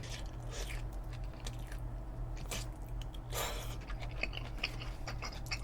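Someone chewing and biting into kimchi pasta, a one-pan pasta, with soft repeated crunchy bites and mouth sounds, close and fairly quiet over a steady low hum.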